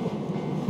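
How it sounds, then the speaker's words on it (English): A train rolls past in Japan with a steady, dense rumble of rail noise, fairly close and continuous throughout, no talking over it. "Oh, look at the train again."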